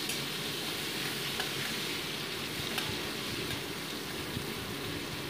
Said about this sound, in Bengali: এবার নুন হলুদ মাখানো চিংড়ি মাছগুলো তেলের উপর দিয়ে দিলাম, একটু ভেজে তুলে রাখছি চিংড়ি মাছগুলোকে।